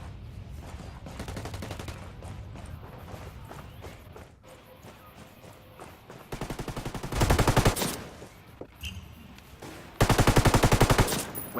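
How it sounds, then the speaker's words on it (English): Light machine gun fire in a competitive tactical shooter match, with long sustained automatic bursts that come loud and close, broken by quieter stretches of footsteps and distant shots. "Westo using that LMG"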